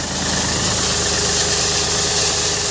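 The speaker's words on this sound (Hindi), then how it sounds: "ये देखिए गिट्टी अल्हम्दुलिल्लाह ट्रैक्टर के ज़रिए से गिराया जा रहा है।" A tractor's diesel engine runs steadily and loudly while gravel is unloaded at a building site, a close, continuous throbbing rumble with no speech.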